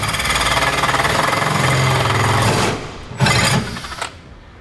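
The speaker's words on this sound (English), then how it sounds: "we are going to start at the bottom and make our pilot hole" A power drill grinds loudly through the metal bed of a Ram 2500 pickup truck, drilling a pilot hole from underneath, a rough buzzing chatter that stops abruptly, followed by a few short bursts.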